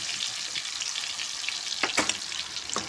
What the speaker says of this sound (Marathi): या कढईमध्ये मी हे साजूक तूप घातलं आहे, तर त्याच्यावर हे मी प्युरी ओतणार आहे